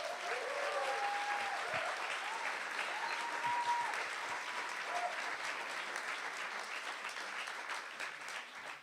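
An audience at a music talk event applauds with sustained, even clapping from a crowded room, faint whoops rising over it near the start before it slowly tapers off.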